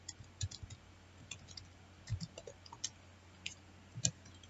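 Soft, irregular key clicks come from a computer keyboard as someone types code, with faint taps in uneven bursts over a quiet background hum.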